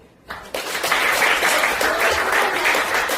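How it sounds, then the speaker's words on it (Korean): Audience applause erupts after a short quiet moment and holds as a loud, dense, steady clapping crowd at a stage performance. "다시 한번 큰 박수"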